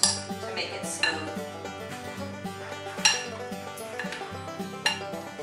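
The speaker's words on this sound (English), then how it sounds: "So I'm just using a masher like we use to mash our potatoes" A potato masher works microwave-cooked acorn squash in a dish, producing sharp clinks against the dish about once a second over soft squishing, close by.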